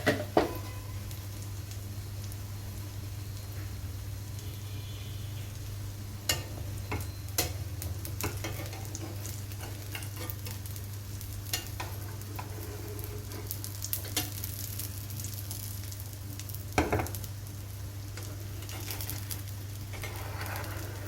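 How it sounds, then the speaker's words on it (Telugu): Semiya omelette frying in oil in a pan gives a steady, soft sizzle with a constant low hum underneath, broken by occasional brief clicks and scrapes. "ఆమ్లెట్ ఇలా కొద్దిగా ఫ్రై అయిన తర్వాత"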